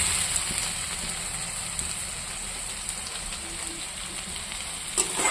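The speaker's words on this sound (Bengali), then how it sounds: "একটু ভাজা ভাজা করব।" Fish sizzles steadily in hot oil in a pan while being fried for a cucumber curry, a dense, even crackle that holds at close range for the whole stretch with no talk.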